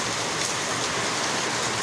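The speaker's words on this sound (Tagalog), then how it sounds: "Berking kusuga sa ulan, no?" Heavy rain pours in a dense, unbroken wash of hiss that stays evenly loud from start to finish, with no voices over it.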